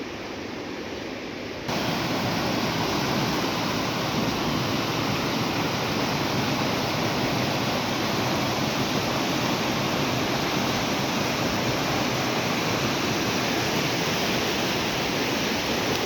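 A rising, flooding river rushes past a village in fog, a dense, loud and unbroken roar of churning water that swells slightly after the first couple of seconds.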